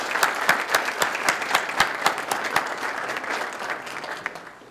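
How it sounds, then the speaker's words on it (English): An audience at a police awards ceremony applauds steadily, with dense overlapping claps at moderate volume that taper off slightly toward the end. "could we please give them a round of applause for coming and showing up tonight?"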